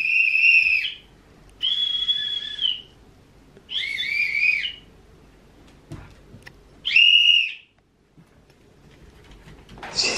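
A whistle blows four times in separate blasts of about a second each, shrill and fairly close, with quiet gaps between them and a faint rustle at the end.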